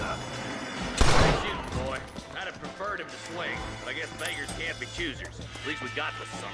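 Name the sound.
gunfire in the video game Red Dead Redemption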